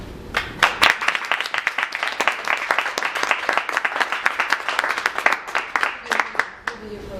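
Applause from a small startup-event audience, individual claps distinct and crisp, building into brisk clapping and then tapering off as it ends.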